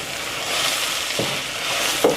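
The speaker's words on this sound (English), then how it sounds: "Give that a stir." Basil and parsley stirred into a vegan casserole mixture in a pan, a close, steady sizzle-like rustle with a couple of spoon knocks and scrapes near the end, no talking.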